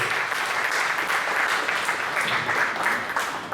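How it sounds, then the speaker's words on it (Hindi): A crowd at a lecture event in Varanasi gives steady, dense applause throughout, many hands clapping at a constant level with no voices standing out. "एक बार ताली बनती है जो है इस चुनाव पे"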